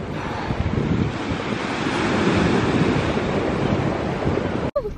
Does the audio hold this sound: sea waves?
yes